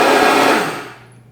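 A high-speed blender roars loudly as it grinds ingredients toward a flour-like texture, then winds down and fades away near the end.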